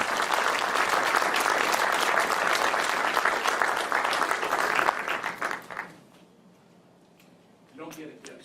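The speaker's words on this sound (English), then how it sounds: "So please give my colleagues a round of applause." A Tustin State of the City 2014 audience gives a loud, sustained round of dense applause that runs about six seconds, then fades out into near silence, with a brief murmur near the end.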